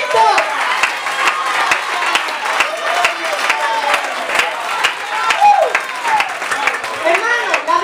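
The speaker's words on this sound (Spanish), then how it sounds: "Un aplauso para Dios del Espíritu Santo." Crowd applause breaks out at a children's church service, steady dense clapping with some cheering, loud and close, carrying on throughout.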